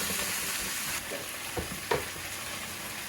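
Quarter of an onion and jalapeños sizzle steadily in a hot pan, a continuous bright frying hiss with a few soft scrapes and small pops, close and alone without any talk.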